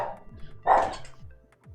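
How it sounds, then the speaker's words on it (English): A dog barks in a few short, sharp bursts, close and fairly loud, with quieter gaps between them. "I didn't hear it because of the barking."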